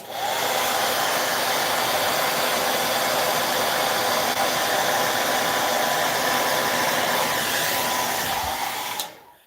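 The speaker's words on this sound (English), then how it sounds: "I have the hair dryer here, and that's the perfect way to get rid of strings of glue." A hair dryer blows steadily at close range with a constant whooshing hum, melting away strings of hot glue, then cuts off abruptly at the end.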